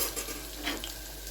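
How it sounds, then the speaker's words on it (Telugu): Onions frying to light brown in a pan, a soft, faint sizzle with light crackle and an occasional scrape of stirring, no voices. "ఆనియన్ బ్రౌన్ కలర్లో వేపుకోవాలి."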